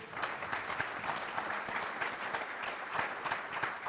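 Steady applause from an audience at a public talk on road traffic safety, a dense even wash of many hands clapping that carries on without a break.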